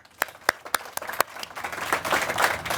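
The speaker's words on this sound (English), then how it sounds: "please give a round of applause and welcome your mayor, Erin Mendenhall" Applause greeting the mayor at a groundbreaking press conference: a few sharp, separate claps first, then clapping swelling into a denser round from a small gathered crowd.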